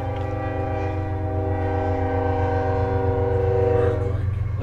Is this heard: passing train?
yes